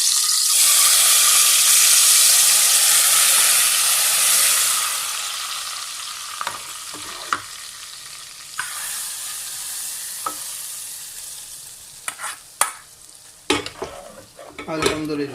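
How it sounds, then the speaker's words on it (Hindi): Kashmiri red chili tadka hits a pot of daal chicken with a loud, hissing sizzle that fades over several seconds, followed by close stirring and scattered clinks of a spoon against the pot. "अभी इस टाइम पे इसमें हम डालेंगे जो हमने तड़का रेडी किया है कश्मीरी लाल मिर्च का।"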